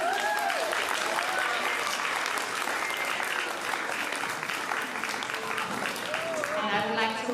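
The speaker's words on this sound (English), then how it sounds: "yes, please, an applause for our Sunflower students." A school moving-up ceremony audience gives the Sunflower students a sustained, dense round of clapping from a crowd, loud and even throughout, with a few voices calling out.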